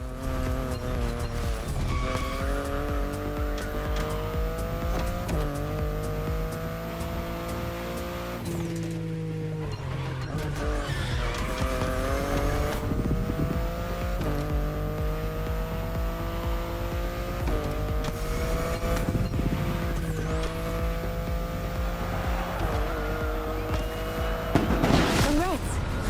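BMW car driving in The Crew Motorfest, a steady engine note rising and falling through gear changes with a brief tire squeal near the end, continuous and fairly loud, with a voice talking over it.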